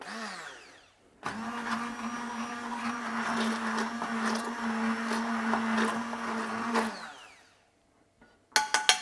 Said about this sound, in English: same as before, stick blender, and off we go